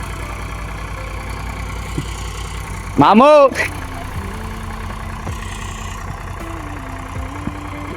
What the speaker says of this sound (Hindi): पीछे ट्रैक्टर आ रहा है